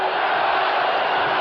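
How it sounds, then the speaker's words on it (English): A dense, steady roar of cheering fills an outdoor football stadium as home fans urge on the Miami Dolphins offense against the New England Patriots, continuous and loud throughout the brief moment. "cheering the Miami Dolphins offensive unit on."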